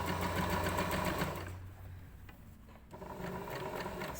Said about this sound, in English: Stitch almost up to the needle.